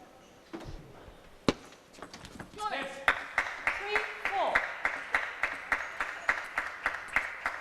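An audience at a T2 APAC 2017 table tennis match claps in a steady, rhythmic beat. A few scattered sharp claps come first, then regular, fairly close strokes run to the end, with some voices around.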